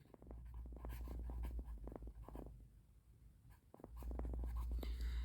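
Chalk or marker scratching on a board during a classroom lecture on artificial neural networks, a run of short, quick strokes in bursts with brief pauses, close and clear over steady room hum.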